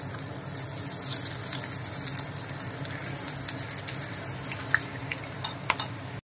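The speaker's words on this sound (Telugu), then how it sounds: "ఇప్పుడు దీన్ని పకోడీలా వేసుకుందాం." Spinach pakoda batter fries in hot oil, giving a steady close sizzle and bubbling hiss with a few sharper pops near the end.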